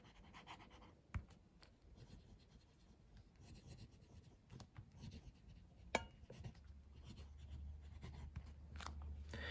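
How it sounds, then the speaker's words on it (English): A fountain pen with a redwood and ebonite body, filled with Waterman Serenity Blue ink, scratches across paper in quiet continuous strokes, with small taps and pauses between words and no talk. "So the pen writes quite smoothly."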